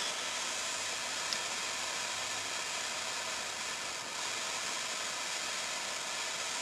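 A steady, even roaring hiss of a torch flame heating a copper pipe fitting for soldering continues unbroken and fairly close throughout, with no talk over it.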